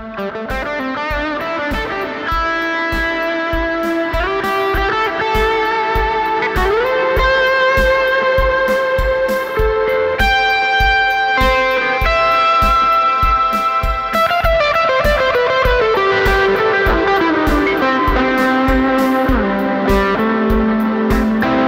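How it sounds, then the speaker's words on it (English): Electric guitar played through a Cusack Music Resound digital reverb pedal on its Keeley setting, stacked with JHS Bonsai overdrive, ringing out distorted sustained chords and notes with washy reverb tails, loud and continuous with no talking. "we're going to throw some gain on top of this reverb sound."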